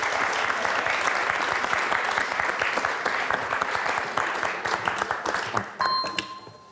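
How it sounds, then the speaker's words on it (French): Studio audience of a TV quiz show applauding a contestant, steady close clapping that thins and fades out toward the end, followed by a brief electronic chime. "applaudissements quand même pour Adrien."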